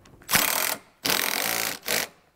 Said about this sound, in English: we're just gonna zap it in with the electric ratchet